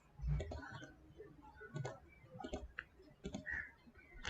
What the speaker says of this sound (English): I'm clicking on this.